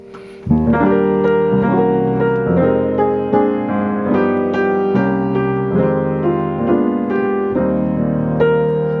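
Full, rich jazz piano chords with a deep bass moving through a 1-6-2-5 progression on a song's verse, notes spread wide and sustained, played alone and fairly loud.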